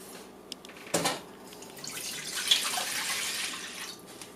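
Plain water poured into a pot to make seitan broth in a home kitchen: a short splash, then a steady close rush of running water that swells and holds.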